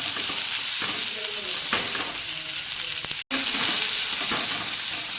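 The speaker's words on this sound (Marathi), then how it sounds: "याच्यामध्येच मी लसूण जिऱ्याची जी पेस्ट केलेली आहे ती सुद्धा घालून घेते आणि व्यवस्थित परतून घ्यायचं।" Chopped onion frying in a pan with a garlic and cumin paste, a steady close sizzle and crackle with occasional stirring scrapes, briefly cutting out for a moment before resuming.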